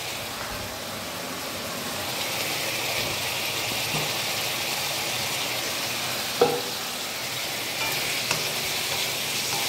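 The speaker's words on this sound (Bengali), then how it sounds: "এরপর আমি ভাজা আলুগুলো একটু দিয়ে দেবো।" Fried potatoes are stirred into a fish curry in a pan, giving a continuous moderate sizzle with a couple of brief utensil knocks.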